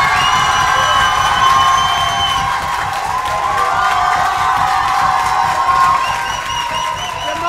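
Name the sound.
audience applauding and cheering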